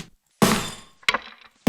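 Three heavy, distorted kick drum hits with gritty, crunchy tails, loud and up close, separated by short silences.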